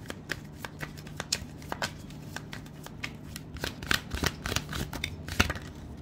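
Tarot cards being shuffled and drawn by hand, a run of crisp riffling snaps and soft slaps, close and fairly quiet, with no voices.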